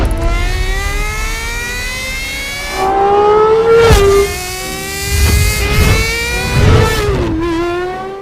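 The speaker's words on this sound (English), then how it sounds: "featuring a stunning naturally aspirated V12 engine that screams like no other" A Gordon Murray T50 hypercar's naturally aspirated V12 screams loud and close, its high pitch climbing and sliding through several rev rises and drops with sharp gear-change breaks.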